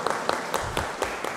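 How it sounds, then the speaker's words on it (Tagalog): A few sharp hand claps in a church during a Mass, around six distinct claps spaced in an irregular rhythm over a second and a half, close and fairly loud. "O pumapalakpak siya."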